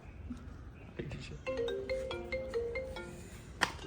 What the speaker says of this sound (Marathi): पप्पांचा फोन आहे